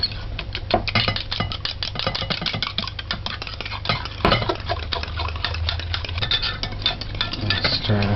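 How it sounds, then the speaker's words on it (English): A utensil stirs egg into cake batter in a bowl, making continuous close clattering and scraping strokes with a steady background rumble and no voices. "So you just stir this in."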